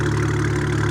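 A BMW E91 wagon with faulty turbos and exhaust idles in a steady, low droning hum, close and constant with a faint uneven pulse through the whole second.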